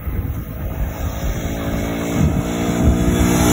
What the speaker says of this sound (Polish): O, motor jedzie.